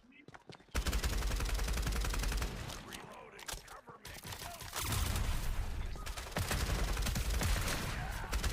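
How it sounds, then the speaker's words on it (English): Shotgun blasts in the competitive shooter FragPunk during a tournament match, sharp loud bursts repeating over dense game noise with talk mixed in. "The fucking shotgun."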